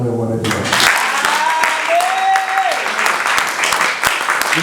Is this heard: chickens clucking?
no